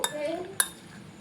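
A spoon clinks against a bowl while chatpata chana is being mixed, giving two light, bright metallic taps about half a second apart, close and fairly quiet.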